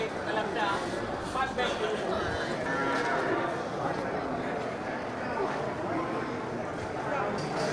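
Water buffalo mooing at a livestock market amid a constant noisy crowd and livestock background, with people talking throughout.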